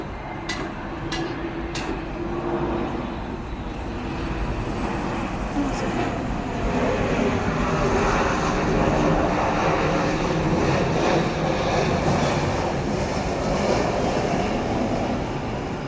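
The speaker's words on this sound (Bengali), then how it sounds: "ওই একটা প্লেন আসছে, এই বৃষ্টি মুড়ে একটা ঝড়মুড়ে একটা প্লেন আসছে।" An airplane flying overhead in stormy, rainy weather makes a loud, continuous engine roar that builds and stays strong as it descends toward an airport.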